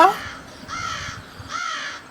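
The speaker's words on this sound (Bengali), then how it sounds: "এই ভোরাতে কাকগুলো কিভাবে ডাকছে" Crows caw at dawn in a spooky cartoon: two drawn-out, harsh calls rise one after another over a low, murmuring background, with a brief sharp cry at the very start.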